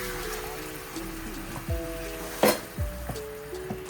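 Fish laid into a pan of cooked-down spice masala, soft sizzling with a few sharp splashes and clatters as the pieces go in, fairly close and without voices.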